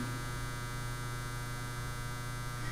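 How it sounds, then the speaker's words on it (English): A clothes dryer hums steadily and quietly in a room, a constant low drone with no voices. "Pardon my dryer."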